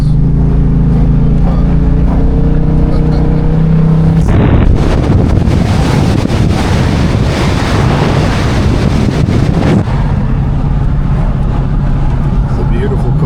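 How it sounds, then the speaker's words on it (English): A loud engine roars up in the middle, a harsh rising rev under wind buffeting, then settles back to a lower idle rumble. "That engine sounds amazing."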